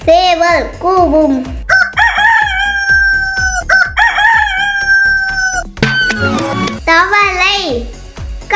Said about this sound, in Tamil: சேவல் கூவும்.